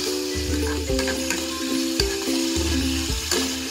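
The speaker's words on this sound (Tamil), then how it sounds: "பாருங்கள், நல்லா வதக்கிக்கிறேன் நான்." Tomatoes and cumin sauté in a pan for a quick sambar, giving a steady close sizzle with periodic scraping strokes of a spatula at a regular pace, loud and continuous with no talk.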